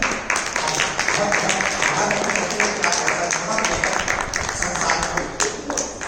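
Loud crowd applause welcoming a visiting Swami at a spiritual discourse gathering, a dense continuous wash of clapping throughout with voices mixed in.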